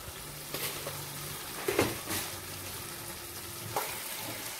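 Spices with sugar fry in a pan for a Bengali pumpkin curry, a quiet low sizzle broken by a few sharp clicks and scrapes of stirring.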